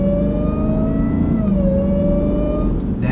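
A Jeep Trackhawk with a new intake revs loudly up close, its engine roar topped by a sustained, prominent supercharger whine that holds steady for a few seconds.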